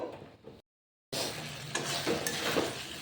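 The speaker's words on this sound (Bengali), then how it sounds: "এটা একটুখানি কষাবো" Masala mushrooms and spices being stirred and sautéed in a pan, a steady close sizzle with scraping stir strokes, broken by a brief silent gap before the frying noise resumes louder.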